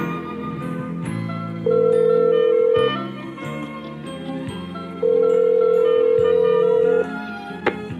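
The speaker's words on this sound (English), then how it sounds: "You've just heard how easy it is to place a call using your new Motorola Cellular phone with digital voice caller capability." A 1992 Motorola cellular car phone with a digital voice caller places a call, two long steady tones sounding over electronic background noise, broken by several short clicks.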